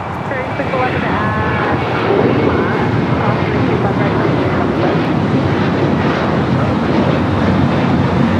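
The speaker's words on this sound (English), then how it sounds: "Spirit A321 Neo" A Spirit Airlines Airbus A321neo takes off at LAX as a loud, continuous jet engine roar that stays steady throughout, with a voice talking over it.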